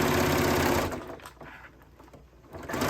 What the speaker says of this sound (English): Back stitching, I'm just using my basic stitch.